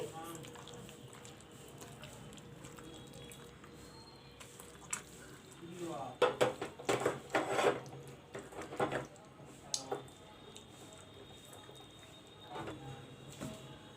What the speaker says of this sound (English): Now I'm going to mix this, mash it nicely.